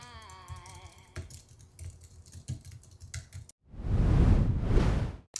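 Close keyboard typing, a quick run of tapping keystrokes, then two loud whooshing bursts near the end.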